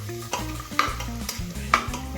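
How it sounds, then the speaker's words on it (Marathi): Green peas sautéing in oil with spices for Maharashtrian matar rice, stirred steadily so the scraping spoon and a soft sizzle come through close and clear, with no talking. "वाटाणा वाफवून घ्यायचं जरासं, म्हणजे परतून घ्यायचं तेलामध्ये"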